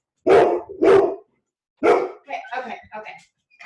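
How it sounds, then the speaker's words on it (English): A pair of loud, close dog barks at a household meal stop, followed by a third bark and some trailing yips or whines. "And my dogs are gonna go crazy."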